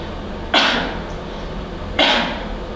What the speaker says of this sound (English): Cough 2 times